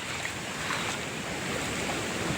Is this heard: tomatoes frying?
no